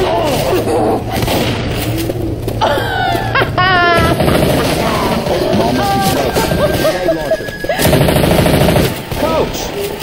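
Rapid machine-gun and rifle fire in the zombie shooter Left 4 Dead 2, loud bursts and repeated shots layered with yelling voices and game effects throughout.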